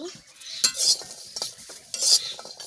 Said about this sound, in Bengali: এখন আমি এতে রসুনের কোয়া এবং গোটা কাঁচামরিচ দিয়ে দিচ্ছি এখন আমি খুব সুন্দরভাবে নেড়ে চেড়ে দেব